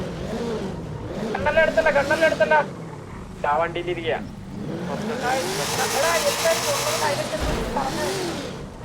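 A rare, expensive car in a roleplay video game drives and revs loudly, engine note rising and falling throughout under steady male chatter in the foreground.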